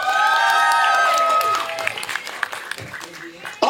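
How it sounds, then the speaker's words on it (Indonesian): Applause from the audience at a film press conference, clapping and light cheering heard under a presenter's voice, fading out toward the end. "Tepuk tangan untuk Nadia Arina,"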